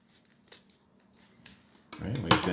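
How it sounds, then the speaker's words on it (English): Scissors cut small slits up the side of a paper tree sculpture: a few soft, sparse snips, then a voice begins talking over the cutting. "We cut a couple little slits up the side"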